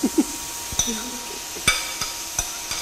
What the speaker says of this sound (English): so we're going to be putting in the tomatoes